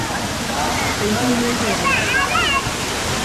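Apsarakonda waterfall in Honnavar, Uttara Kannada, roars as a constant, loud broadband rush of falling water throughout, with faint voices and a few high bird-like chirps over the steady flow.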